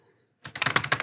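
Quick typing on a computer keyboard starts after a brief silence, a rapid run of close, crisp key clicks with no voice.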